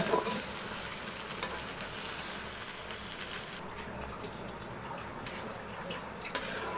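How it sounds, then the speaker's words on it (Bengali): Onion fries in a pan for a homemade Bengali mashed-dish recipe, a soft continuous sizzle with scraping stir strokes and a few light clicks, fairly quiet and with no talk. "পেঁয়াজটা একটু ভেজে নেব"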